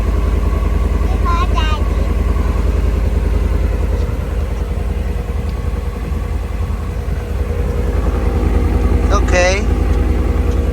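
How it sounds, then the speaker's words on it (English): A Ford Coyote 5.0 V8 idles steadily and loudly with a new exhaust after a cold start. The deep, even rumble runs throughout, and a child and an adult speak briefly over it. "that was the cold start so far"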